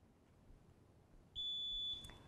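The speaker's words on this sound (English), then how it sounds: "get those buzzers ready" A quiz show buzzer sounds once, a single sustained electronic tone held for about half a second over quiet room noise.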